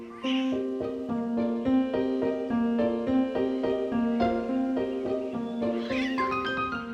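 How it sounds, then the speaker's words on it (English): Four-month-old lynx kittens playing in the Carpathian wild give a long, loud, wavering meowing call, close by and nearly continuous, with scuffling at the start and end. "The Lynx kittens are now 4 months old and busy exploring their surroundings and testing sibling rivalries."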